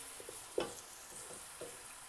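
Garlic-ginger paste frying in cooking oil for street-style fried daal mash gives a soft, steady sizzle with a few light stirring knocks, quiet and without voices.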